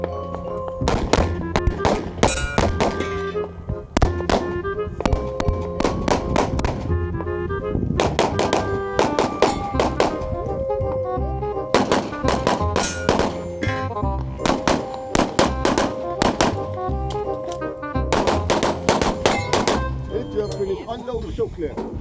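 Gunshots crack in rapid strings at a shooting competition stage, sharp loud reports in uneven bursts with brief pauses between volleys, some ringing steel hits, and a voice occasionally heard between shots.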